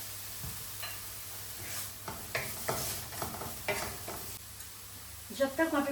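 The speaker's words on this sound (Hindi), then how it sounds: "जब तक वहाँ पे प्याज ट्रांसलूसेंट हो रही है" Onions fry in a pan with garlic and salt, a soft sizzle punctuated by irregular knocks and scrapes of stirring that grow louder toward the end.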